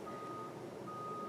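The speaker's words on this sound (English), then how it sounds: "Beeping noise." Vehicle reversing beeps sound outside, a steady high electronic tone held over a low, distant rumble that suggests a truck, fairly faint and heard from indoors.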